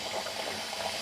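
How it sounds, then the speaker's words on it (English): Water runs steadily from a kitchen sink tap into a pot, a continuous soft rushing splash at low to moderate level with no voices. "take this pot over here to the sink and fill it up"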